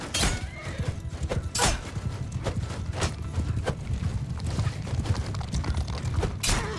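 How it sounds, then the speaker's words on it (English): Cavalry horses gallop in the Mount & Blade II: Bannerlord battle game, a dense, rumbling drum of hooves with scattered sharp impacts from the fighting throughout. "I hear those horse."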